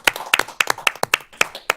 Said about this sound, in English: I think we should give Dr. Little a round of applause